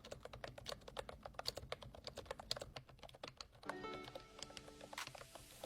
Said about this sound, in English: This is a membrane style keyboard, so these are extremely quiet.